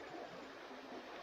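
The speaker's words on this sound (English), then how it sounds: "creek's still pretty low." Low creek water flowing steadily beside a hay field, a soft continuous rushing trickle heard alone for a brief moment.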